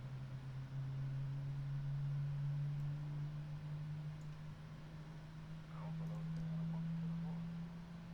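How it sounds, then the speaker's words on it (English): Jet engines of a PMDG Boeing 777 spool up in a flight simulator game, a steady low drone with a rising hum, and someone talks briefly partway through. "And now we can hear those beautiful engines starting up."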